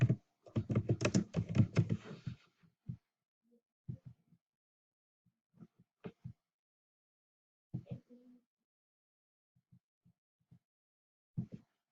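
Sparse, soft taps on a computer keyboard as a short phrase is typed, coming in separated clusters after a brief burst of rustling. The room is otherwise quiet.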